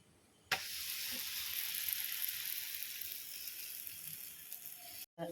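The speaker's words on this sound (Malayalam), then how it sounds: "പാൻ ചൂടായിട്ടുണ്ട് അതിലേക്ക് നമുക്ക് ചപ്പാത്തി ഇട്ട് ഓരോന്നായിട്ട് ചുട്ടെടുക്കാം" Chapati laid on a hot pan sizzles steadily after a sharp onset, a bright hissing crackle that stays fairly even and close, with no one talking over it.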